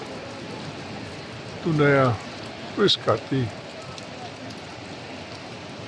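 Rain falls in Vienna as a steady, even hiss throughout, while someone speaks briefly in the middle.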